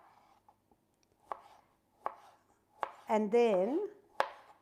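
A knife chops gherkins into thin strips on a board, with sharp isolated taps spaced about a second apart. A voice speaks briefly near the end between cuts.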